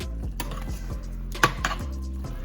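A spoon working through creamy beef stroganoff in a single pot, giving soft repeated scraping and knocking strokes in a slow rhythm, close and quiet, with one sharper clink partway through.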